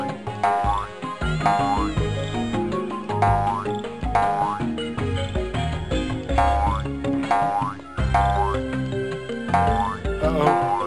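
Cartoonish frog croaks in the video game Dog on a Stick, repeated springy boing-like croaks at a steady rhythm over a busy game music track.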